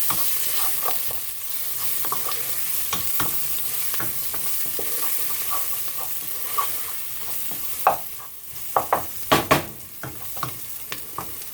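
Curry chicken ingredients stirred in a pot, a steady low sizzle under repeated scraping and clacking strokes that grow louder and sharper toward the end, close and without talk.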